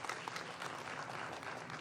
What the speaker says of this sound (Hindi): एक बार जोरदार तालियां मैं चाहती हूँ